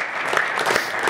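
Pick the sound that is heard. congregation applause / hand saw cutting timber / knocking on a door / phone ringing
congregation applause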